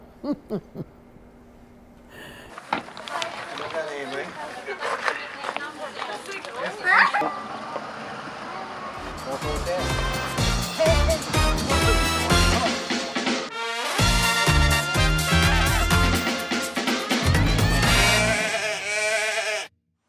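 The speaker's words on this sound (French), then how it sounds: "Le mouton." Sheep bleat out on a field, wavering calls near and fairly loud early on, then mixed into a dense, busy stretch of other sound and voices.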